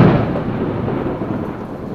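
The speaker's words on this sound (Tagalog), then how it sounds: "Napakalakas talaga ng ulan." Heavy rain pours in Singapore as a deep roll of thunder rumbles loud and close, fading into a steady dense downpour with no voices.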